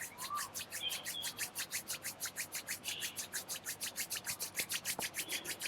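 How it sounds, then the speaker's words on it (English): Palms rub together quickly and steadily, a soft close rhythmic swishing of skin about four strokes per second, faint and without talk. "you might open your eyes, rub your palms"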